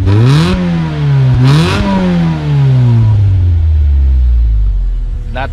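Honda Civic EG hatchback with a 2.0 DOHC engine revving loudly nearby, two quick rising blips followed by a long fall back to idle rumble, with a brief word spoken.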